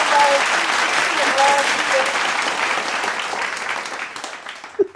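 A studio audience claps loudly and steadily for a T-shirt a guest is wearing on a talk show, the applause sustained nearly throughout before thinning out at the end, with faint voices under it.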